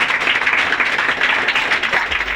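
A crowd at an award ceremony honouring top-scoring matric and intermediate exam students breaks into steady, loud applause. Dense clapping runs throughout with hardly any voices.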